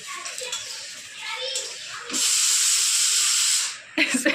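A pressure cooker hisses steam in a home kitchen where mixed chicken fried rice is cooking and meat is being braised; a loud, steady hiss rises after a quieter start, then cuts off abruptly, with children's voices nearby.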